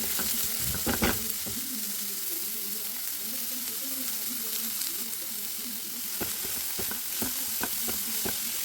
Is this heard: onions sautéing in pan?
yes